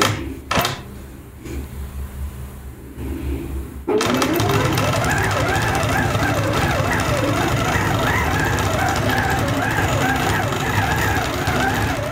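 A computerized sewing machine stitching out a quilting pattern for a wedding ring bed runner starts up after a few seconds of quiet handling, then runs as a loud, steady, rapid mechanical whir to the end.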